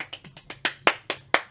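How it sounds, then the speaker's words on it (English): Hands clapping in a quick, uneven burst of about eight sharp claps over a second and a half, with the later claps louder and nearer, and no voices over them. "give him a round of applause"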